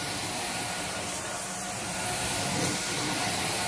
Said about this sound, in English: a good hot water extraction is always going to give the best results